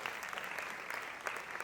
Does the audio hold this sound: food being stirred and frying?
no